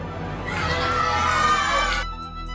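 Children shout excitedly during a street cricket game on a Mumbai lane, a brief burst of overlapping young voices and crowd noise that swells and then drops away quickly.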